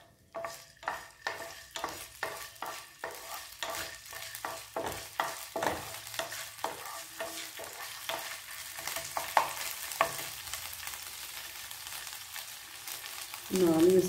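Broccoli and mushroom with ginger stir-fried in a pan, a long run of rhythmic spatula scrapes and clacks over a soft sizzle, the strokes fast at first and then easing into a quieter fry.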